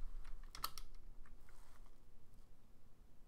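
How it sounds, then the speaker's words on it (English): Brief quick clicks of computer keys being tapped, close and soft, bunched into a short burst before fading into a quiet room hum. "all you do is you hit colon, just like in Vim, and then you're going to type the command"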